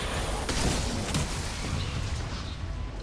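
A shotgun fires in the video game Remnant: From the Ashes, a dense, loud burst of noise amid continuous gunfire and combat rumble that fills the whole stretch.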